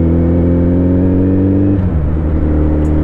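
A Suzuki Hayabusa Gen-2 motorcycle engine revs loud and close, holding a steady high-pitched whine before the revs drop sharply and settle into a lower, even hum.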